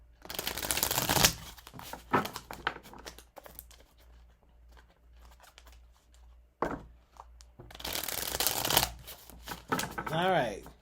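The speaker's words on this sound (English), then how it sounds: "I'll give the cards a little bit of a shuffle." Tarot cards being shuffled by hand in two bursts of brisk, close riffling and flicking, with a person talking quietly in the pause between them.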